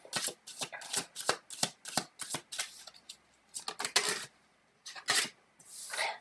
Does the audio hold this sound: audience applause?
no